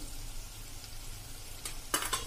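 Tomatoes sautéing in a pan for sambar, giving a steady close sizzle with a few brief stirring scrapes near the end as turmeric goes in.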